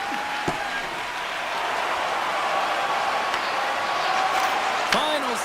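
Steady, dense crowd roar fills an ice hockey video game arena from start to finish, with sharper puck and stick knocks cutting through.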